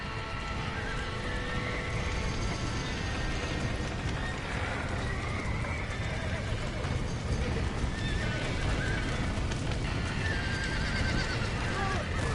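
Video game horses whinnying and neighing over rapid galloping hoofbeats in Red Dead Redemption, busy and continuous, with a voice occasionally talking over them.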